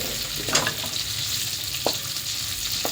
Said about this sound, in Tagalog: At mantika, ilagay na natin ang bawang.